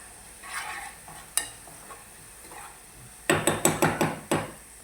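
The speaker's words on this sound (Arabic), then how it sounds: "واول ما البصله تدي معانا لون كده هنروح ننزل عليها بالطماطم على طول" Onion frying in a pan with tomatoes added: soft sizzling sits under scattered scrapes and knocks, then a quick series of sharp metallic clinks near the end, close and without voices.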